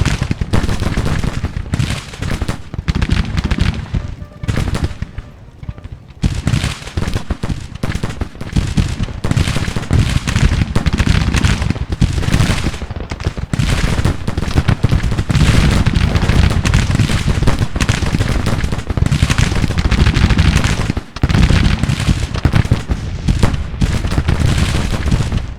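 Civil War battle gunfire and artillery rage in Grand Tactician: The Civil War. Dense, sustained volleys of musketry crackle and pop, with heavy booming cannon shots mixed into a loud, unbroken roar of combat.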